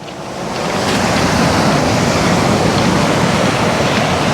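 Ocean waves on a beach in Taitung, Taiwan, rising into a loud, steady roar of surf that fills the scene, with some wind buffeting the microphone and no voices.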